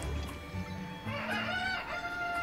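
Chickens in the video game The Legend of Zelda: Tears of the Kingdom, clucking and crowing in a short burst of close, moderately loud calls.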